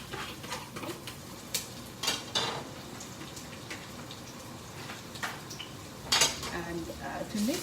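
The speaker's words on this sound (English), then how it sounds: "the oil is heating up. Okay, so I am just going to put in my onion, my curry leaf," Onion, curry leaves and spices go into hot oil in a pot. Utensils clatter and scrape in irregular knocks over a soft frying hiss, fairly quiet and close.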